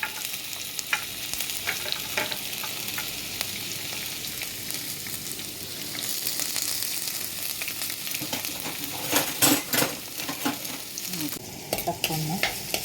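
Green chili, ginger and curry leaves frying in a pan, stirred with a spoon: a steady broad sizzle with repeated scraping strokes that grow busier and louder toward the end, close by and without talk.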